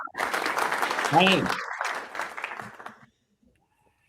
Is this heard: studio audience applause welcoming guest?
yes